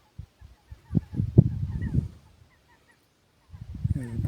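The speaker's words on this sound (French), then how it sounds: "Et le bruit des oiseaux." Geese honking at close range in a quick burst of calls, a short pause, then more honks, alongside other bird calls outdoors near snowy mountains in Morocco.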